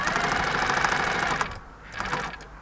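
A sewing machine stitches a seam on a men's shirt being refashioned into a camisole, running in a loud steady whir of rapid needle strokes, then pausing briefly before a shorter burst of stitching.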